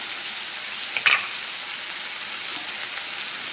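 Prosciutto ham frying in a pan for an omelet, a dense steady sizzle close by with one brief louder crackle early on, no voices.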